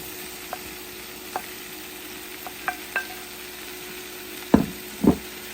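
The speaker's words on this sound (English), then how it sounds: "So now what we're going to do is add in the vegetables." Vegetables stirred in a hot pan with a light roux for Cajun chicken pasta, a soft steady sizzle with scattered wooden spoon knocks and scrapes, two louder clunks near the end, close, with no talking.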